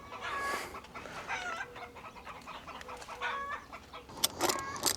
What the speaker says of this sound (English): Neighbor's chickens are being very loud.